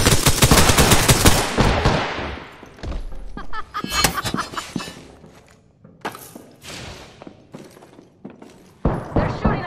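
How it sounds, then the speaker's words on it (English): Gunfire rattles through an Apex Legends firefight: a long automatic burst opens, followed by scattered loud shots and thuds with brief quiet gaps, ending in another sharp volley. "They're shooting at me."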